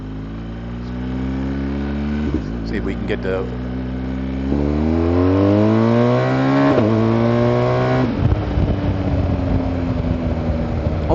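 A BMW R1250GS motorcycle fitted with a MIVV exhaust revs several times close up, its engine note climbing and dropping in repeated sweeps, while someone talks over parts of it.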